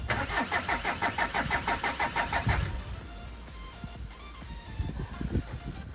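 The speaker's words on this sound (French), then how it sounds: "Il y a de l'essence, mais elle démarre plus!" A car's starter cranks in a fast, even rhythm for a couple of seconds without the engine catching, then cuts off, leaving quiet rustling and faint knocks.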